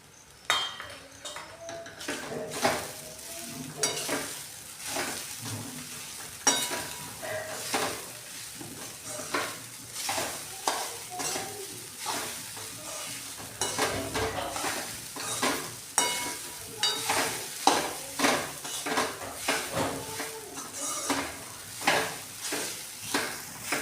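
Sabudana khichdi with salt is being stirred in a pan, giving steady, rhythmic scraping and clinking strokes close up over a faint sizzle, repeated throughout with no talking.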